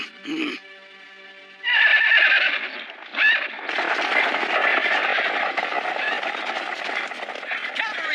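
Horses from a video game whinny and neigh as cavalry arrives, with a sharp neigh at the start, then louder neighing, hoof clatter and a busy, dense mix, while a voice talks over it.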